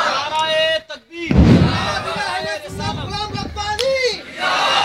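Crowd at an annual Islamic religious gathering shouting a loud collective Takbir response after a call from the stage, voices swelling together with a thump, then continuing speech.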